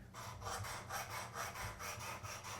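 A knife blade is ground on a Work Sharp Precision sharpener, a Buck 180 Crosslock against the abrasive. Rhythmic back-and-forth rasping strokes, about eight passes, close and steady with no talk.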